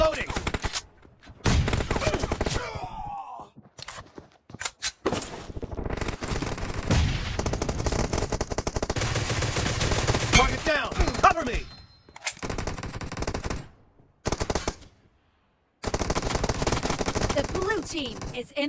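Groza rifle firing unsuppressed in PUBG Mobile, with dense, loud automatic bursts separated by short silent gaps and a few lone shots between them.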